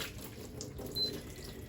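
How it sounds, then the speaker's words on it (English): Cooked red lentils being strained through a sieve at a kitchen sink, a brief close splash and trickle of draining liquid over faint background hiss. "I'm going to now take the lentils and take them over to the sink and strain off the liquid"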